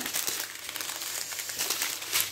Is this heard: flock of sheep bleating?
no